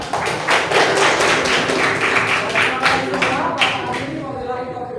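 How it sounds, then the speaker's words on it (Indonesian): Classroom applause from a group of students at the end of a lesson, a dense run of claps and taps sustained for several seconds before trailing off, with voices mixed in. "Kasih aplaus dulu untuk kita semua."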